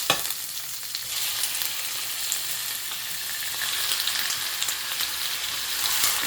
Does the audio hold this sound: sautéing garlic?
yes